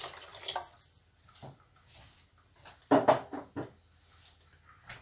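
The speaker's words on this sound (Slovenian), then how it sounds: "Evo ovako dodat ću još vode." Water is poured into a pot of vegan asparagus cream soup, with short splashing bursts and a few clunks of the pot in a quiet kitchen.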